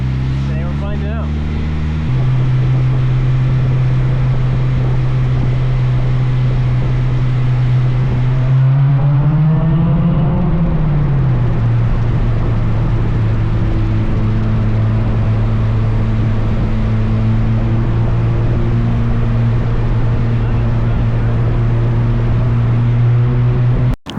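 A car heard from inside on a test drive, its steady engine hum loud and continuous with a brief rise in revs near the middle before settling back to an even drone.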